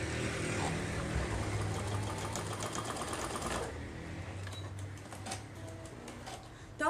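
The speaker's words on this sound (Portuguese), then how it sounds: "passei essa costurinha aqui" A sewing machine runs in quick rapid bursts, stitching a fabric pocket on a notebook cover, with a steady mechanical whir for several seconds before stopping, followed by faint handling noises.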